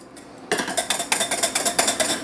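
Egg yolks whisked briskly in a bowl while making hollandaise, a close, rhythmic metallic clatter of the whisk against the bowl after a brief quiet start, steady strokes repeating about four times a second.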